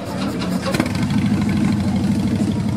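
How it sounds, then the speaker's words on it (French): A Mazda convertible's engine runs at a steady idle, a continuous low mechanical drone that stays level and close throughout. "Elles sont belles ces mécanes, hein, mais elles font un peu de bruit quand même"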